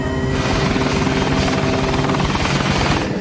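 A DHL cargo plane on approach to the runway at Baghdad drones loudly and steadily close by, a thick engine roar with a throbbing, buzzing texture that holds even throughout.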